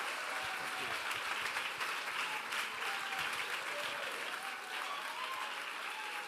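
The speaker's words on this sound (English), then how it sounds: "please welcome with me with a big round of an applause" Audience at the European Greens Congress in Vienna breaks into sustained, dense applause welcoming the co-chair to the stage, a steady roar of clapping from a large hall with faint cheers mixed in.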